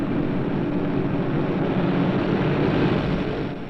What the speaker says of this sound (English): our packages zoom across the land via that latter-day Pegasus, the jet